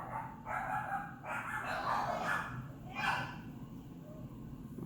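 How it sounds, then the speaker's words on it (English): Pet dogs barking in a home, a steady run of sharp yips and barks that sound somewhat distant and muffled, with continuous low background noise. "my dogs are going crazy"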